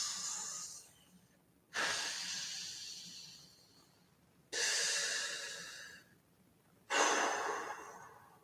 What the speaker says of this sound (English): Are we done breathing?